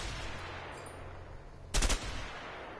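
A short burst of rapid automatic gunfire in the video game A Way Out, loud and sudden over steady background game noise.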